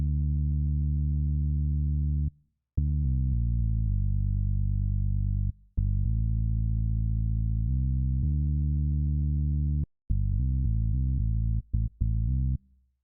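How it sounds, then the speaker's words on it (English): Low, distorted synth bass line for a 2000s swag beat, playing steady sustained notes with short gaps and choppy repeated stabs, loud and alone with no voices. "Next, I have this bass right here"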